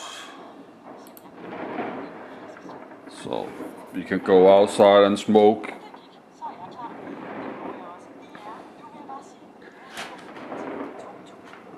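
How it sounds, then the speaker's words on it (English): New Year's Eve fireworks bang outside, a cluster of deep, rumbling booms in the middle with fainter distant pops around it, as people talk close by. "People that go outside and put fireworks"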